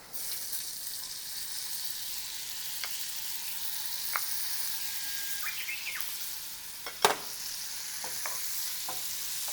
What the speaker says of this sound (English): Once the garlic is fragrant, you just add the capers.